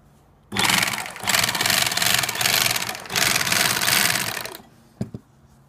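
A Newlong NP-7A portable bag closer sewing geofabric with UV thread, running in loud rapid whirring bursts with a brief pause between, then stopping with a couple of small clicks.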